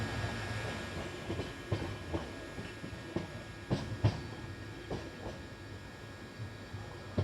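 Poorna Express train rolling into Londa Junction, a steady rumble of wagons with rhythmic clickety-clack wheel beats over rail joints at an even, moderate distance, no voices.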